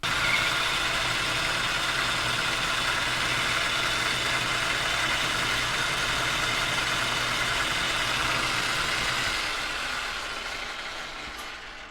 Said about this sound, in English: Let's get this piece of scrap over to the lathe and start machining it.